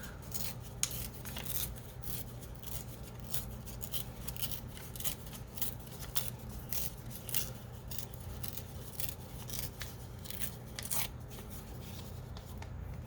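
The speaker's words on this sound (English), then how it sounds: "We're going to give this a tear." Paper is torn by hand for summer journal decorating, making steady close crinkly ripping and rustling throughout with no talk.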